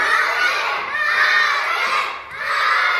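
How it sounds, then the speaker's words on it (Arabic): Children cheer and shout together in a loud, steady burst of excited group noise, rising and falling briefly before surging again. "تشجيع قوي قوي قوي."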